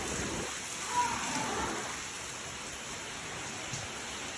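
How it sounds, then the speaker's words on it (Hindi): Heavy rain pours steadily at a home, a dense continuous hiss of drops on surfaces with no breaks, fairly close and even in level throughout. "और बारिश फिर से आ गई है भैया।"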